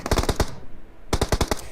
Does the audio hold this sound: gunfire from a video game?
yes